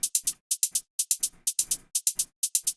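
Two layered closed hi-hat samples from a tech house track, crisp bright ticks in a quick repeating groove of short groups, clean and close with no other instruments.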